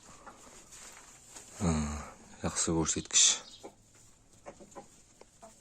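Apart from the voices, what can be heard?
Adler breed hens clucking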